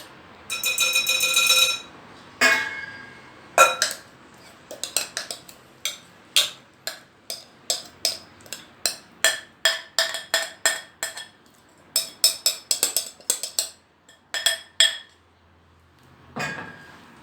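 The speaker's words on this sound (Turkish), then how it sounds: "Onu bir güzelce karıştırıyoruz." Çiğ köfte being mixed with sauce in a bowl gives a close, irregular run of clinks and taps from a utensil against the bowl, with short bursts and brief pauses and no talking.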